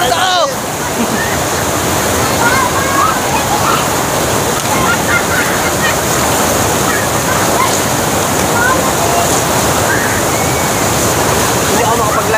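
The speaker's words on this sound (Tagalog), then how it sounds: "Ito yung ilog." A river rushes in a loud, continuous roar of flowing water at a bathing spot, the dense wash unbroken from start to finish.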